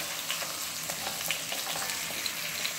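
Tomatoes frying in a pan with cinnamon for an Algerian cabbage couscous: a steady, even sizzle with small pops and crackles throughout, close and moderately loud.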